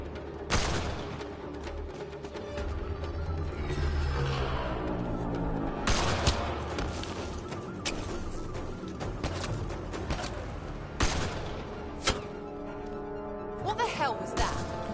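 Gunfire in the video game Mass Effect Andromeda: scattered sharp shots and booming bursts over a continuous music and effects bed, with voices talking through the fighting.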